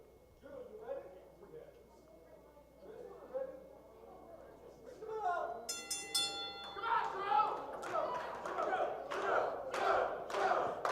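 A crowd at a wrestling show cheers and roars, swelling loudly about halfway through and staying strong to the end, with a commentator's voice talking over it.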